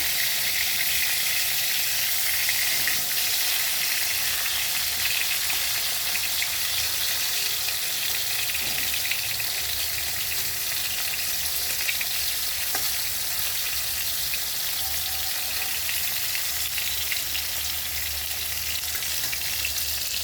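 Eggplant frying in hot oil, a dense, even sizzle that holds steady and fairly loud throughout with no voices.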